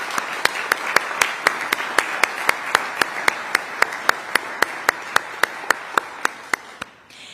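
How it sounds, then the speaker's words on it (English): Sharp, evenly spaced single claps ring out in a steady rhythm at a parks and recreation awards ceremony, about four per second and close by, over a faint room background. "But let's still give a round of applause for the Allen family for over 13 years of dedication to Brookhaven Park."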